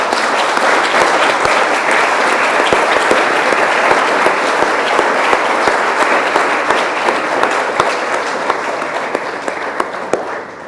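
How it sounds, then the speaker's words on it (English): An audience at an award ceremony applauds steadily, a dense wash of clapping that holds for about ten seconds before easing off slightly at the end. "I'm glad that the applause made it clear that you're all familiar with it"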